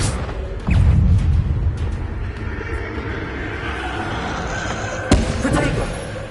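Confringo fire spell blasts in Hogwarts Legacy, a heavy booming impact near the start followed by a sustained rumbling roar and a second sharp burst later, loud and close amid game combat noise.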